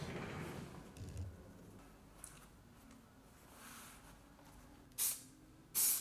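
Spray adhesive is sprayed onto foam panels in a quiet room. Two short, sharp hissing bursts come near the end, each lasting about a second, over a low background hum.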